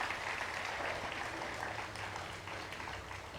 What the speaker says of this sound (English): give those teams a loud round of applause for their